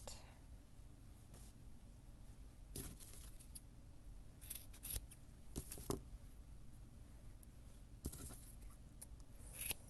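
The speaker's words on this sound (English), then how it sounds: "And now I'm going to cut." Scissors snip through crochet yarn in several short, crisp cuts spaced irregularly across a quiet background with faint handling noise, close and soft.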